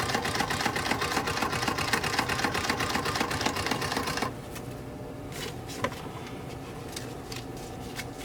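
A Victor 1280-7 wireless printing calculator feeds paper out with a loud, steady mechanical whirring that stops abruptly partway through, leaving a faint hum with a couple of small clicks.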